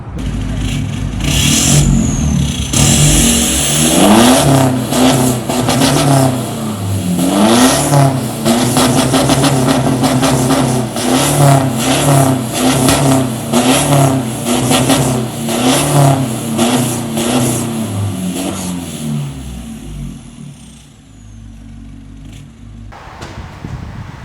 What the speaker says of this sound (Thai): เสียงท่อ นะครับ นุ่ม ๆทุ้มๆนะครับแผดร้องในบางเวลานะครับ